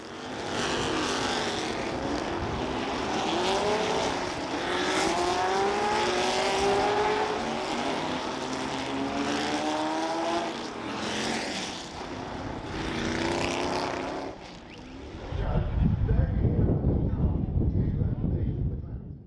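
Historic race cars, a pack of Ford GT40s and Lola Chevrolet T70 Spiders, roar past in a loud, sustained engine drone with rising and falling pitch, a commentator talking over them, before a heavy close rumble at the end.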